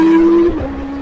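Kawasaki ZX-25R motorcycle on a Sunday morning group ride, a loud, close, high-pitched engine whine held steady, then dropping slightly in pitch as it accelerates away within a second.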